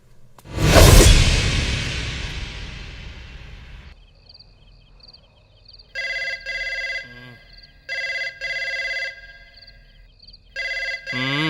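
A loud swooshing hit opens and fades, then a telephone rings in repeated electronic trilling bursts with short gaps between them, clear and close.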